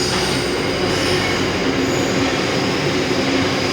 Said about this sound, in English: That's a freight train going past, viewers.